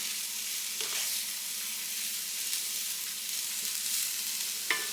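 Shredded coleslaw mix sizzles steadily in a hot pan while being stirred, a soft continuous frying hiss with occasional light scrapes and clicks.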